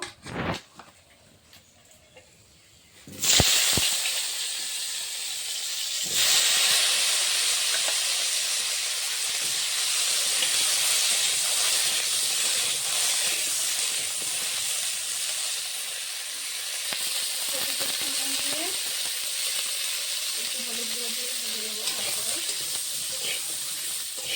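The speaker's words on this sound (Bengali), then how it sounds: "এই তেলে এখন কপিটা ভেজে নেব" Cauliflower frying in hot oil in a home kitchen, a loud steady sizzle and hiss that starts abruptly after a few quiet seconds and carries on continuously, with faint clinks of stirring.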